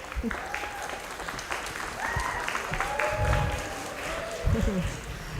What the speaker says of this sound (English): Can we get a round of applause for Joanna?